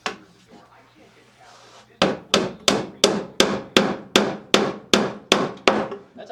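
A hammer drives nails into a hard, knotty board for a screened hive-top feeder box, about a dozen sharp, loud blows landing in a steady rhythm after a quieter start.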